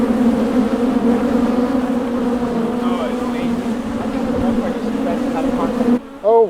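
Honeybees swarm around an open hive box in a bee rescue yard, a loud, close, steady droning buzz throughout, with a brief voice-like sound near the end.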